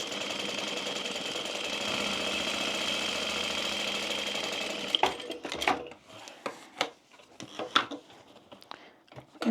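A sewing machine runs steadily for several seconds stitching a bag lining, a continuous whirring drone, then stops and gives way to scattered clicks and handling knocks of fabric and tools.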